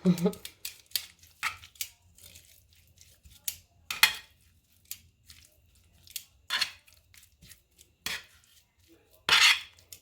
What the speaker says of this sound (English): I'm just going to give that a little mix over here with my tongs